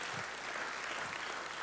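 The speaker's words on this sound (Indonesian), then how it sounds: "Ayo kasih tepuk tangan bagi Allah kita." Congregation applause during a church sermon, a faint, steady wash of many hands clapping at a distance with no break.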